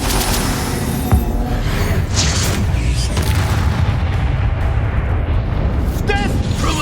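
A Bombarda blasting spell in the Hogwarts Legacy video game erupts as a heavy, loud boom with rumbling debris, over a dense din of battle effects, with voices speaking nearby.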